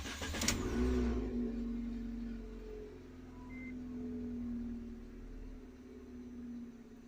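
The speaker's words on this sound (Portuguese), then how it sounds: "Vamos dar partida para ver." A car engine cranks and catches with a short burst near the start, then settles into a steady idle hum with slight swells. No one speaks.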